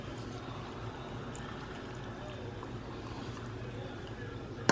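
Almond milk poured into a cup in a home kitchen, a soft continuous liquid trickle with a faint ringing fill tone, fairly quiet and steady until a small clink at the end.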